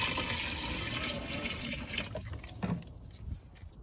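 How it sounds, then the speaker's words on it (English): Water running steadily as it is poured into a car's windshield washer fluid reservoir, a continuous close splashing fill that eases off slightly toward the end. "I'm putting some water back in the reservoir."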